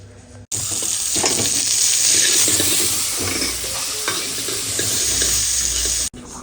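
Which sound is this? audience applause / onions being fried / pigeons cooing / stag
onions being fried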